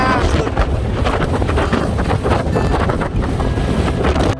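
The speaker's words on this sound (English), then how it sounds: "that wind is awful" Strong wind at a scenic overlook above Lake Mead near Hoover Dam roars loudly and steadily into the microphone, a constant buffeting rush with no pauses.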